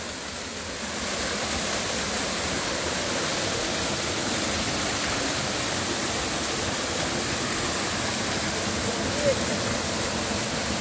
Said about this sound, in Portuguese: tá espirrando água aqui em mim